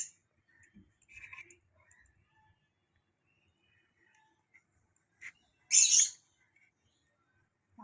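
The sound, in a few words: birds chirping and calling loudly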